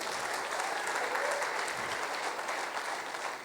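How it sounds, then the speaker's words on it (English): Lecture audience at ISDI Mumbai breaking into loud, sustained applause, a dense wash of many hands clapping that holds steady throughout with a faint murmur of the crowd underneath. "can you give a little louder clap?"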